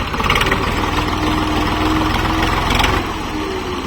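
A tractor stuck in wet mud runs its engine hard, a loud, steady, rumbling drone that drops to a lower idle after about three seconds; no one speaks.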